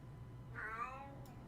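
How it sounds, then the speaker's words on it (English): A pet cat meows faintly in the background during a live stream, one drawn-out, wavering call rising and falling over about half a second, heard alone against a low room hum. "You can hear the bloody cat moaning in the background."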